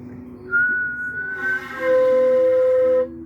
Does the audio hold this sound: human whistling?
yes